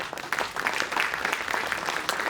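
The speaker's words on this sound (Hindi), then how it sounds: "मैं चाहता हूं कि दर्शकगण एक बार अपने लिए ताली बजाएं।" Audience applause at a theatre festival at Ravindra Manch, Jaipur: dense, steady clapping from a crowd, moderately loud and continuous throughout with no talk.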